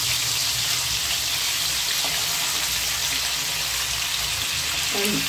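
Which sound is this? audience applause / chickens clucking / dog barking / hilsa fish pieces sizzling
hilsa fish pieces sizzling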